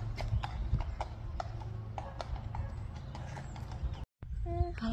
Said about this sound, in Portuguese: enquanto o Caio e a Finn vão com os cavalos e o Boris.